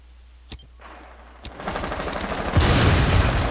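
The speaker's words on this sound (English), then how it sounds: "She's shooting through the tops of the reinforced walls that you can break." Video-game gunfire in Rainbow Six Siege on the Club House map, rounds punched through reinforced walls: sparse single shots at first, then dense sustained automatic fire that swells louder toward the end.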